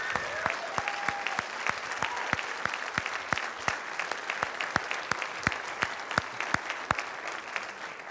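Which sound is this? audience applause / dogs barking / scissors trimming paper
audience applause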